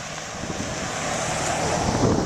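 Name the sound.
breeze blowing outdoors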